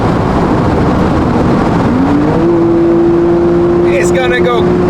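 A car cruises at around 200 on a road trip from Sweden to Italy, a loud, steady interior engine and road drone with a rising then held tone, while people talk over it.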